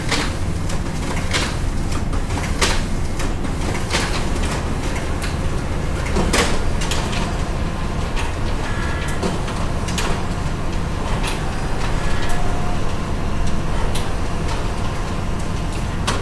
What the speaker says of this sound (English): So I put my documents into my 100 sheet document feeder.